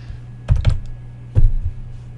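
A computer keyboard gives two short bursts of keystrokes close by, a quick pair of taps then another cluster, over a faint steady hum.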